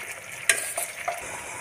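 Soaked black gram and kidney beans fry in a pan, a quiet sizzle broken by a couple of sharp clinks and scrapes from a stirring spoon, brief and with no one speaking.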